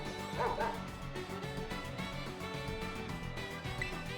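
Dachsbun, the bread dog Pokémon in Pokémon Violet, gives short yipping barks near the start, layered over game music that continues underneath.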